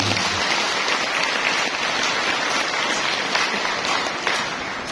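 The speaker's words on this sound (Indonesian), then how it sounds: "Tepuk tangan buat panjenengan sekalian." Audience applause at the Milad Tahta Mataram 2023 anniversary gathering: dense, sustained clapping from a large crowd fills the whole stretch at steady loudness, with no voices rising above it.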